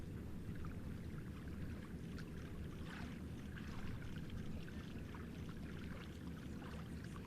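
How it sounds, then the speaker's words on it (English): Water splashes and laps near the causeway at the Cape Canaveral launch site in a steady, soft wash of sound with no voices over it. "we hear some splashy waves and fish jumping and stuff"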